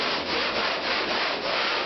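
Sandpaper scrapes back and forth over a bump of wall texture in quick, rhythmic rasping strokes, loud and close with no talking.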